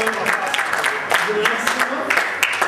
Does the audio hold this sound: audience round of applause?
yes